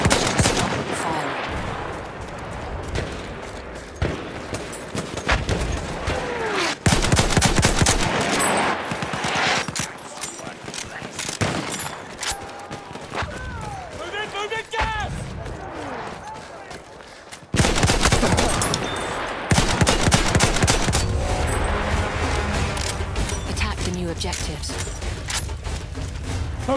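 Battlefield 1 online battle: loud, dense bursts of machine-gun and rifle fire mixed with heavy artillery booms, near and continuous throughout, with brief voice-like sounds in the mix.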